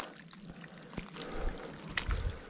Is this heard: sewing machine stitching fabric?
no